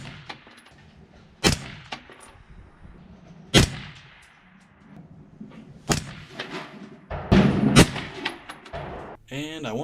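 AR15 rifle shots fired at a target on a range while zeroing, sharp loud cracks standing out in a few separate bursts spread across the clip over low background noise.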